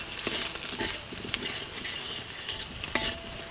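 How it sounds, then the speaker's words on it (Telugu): Baby potatoes tossed with fried onions in a pan, with a steady soft sizzle under repeated scraping strokes of a spoon and a couple of sharper clinks against the pan, close up and with no talking. "వీటిని 2-3 నిమిషాల పాటు మొత్తం అంతా కలిసే వరకు బాగా కలుపుకోవాలి."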